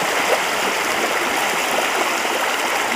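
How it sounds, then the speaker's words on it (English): Death Hollow creek merging with the Escalante River, a steady broadband rush of flowing water, loud and continuous with no voices. "this is where the Death Hollow flow merges with the Escalante River"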